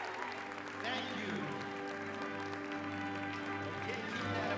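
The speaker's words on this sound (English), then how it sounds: "keep that applause rolling" Applause for dancers at a youth ballet competition awards ceremony in Austin, Texas, a steady wash of clapping from a large crowd with a constant low hum under it, continuing without a break.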